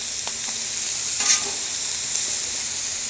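Romaine lettuce sizzles in butter on a 36-inch Blackstone griddle, a steady bright hiss with a brief louder crackle near the middle and no talk.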